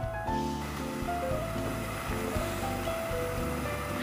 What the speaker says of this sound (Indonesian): Ini saya rebus menggunakan air sisa rebusan tempe semangit tadi ya teman semua.